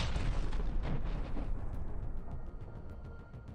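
Artillery fire from a platoon of 152mm 2A36 towed guns shelling an 82mm mortar position. A heavy, sustained roar and rumble fills the clip, loud at first and slowly easing, with no voices.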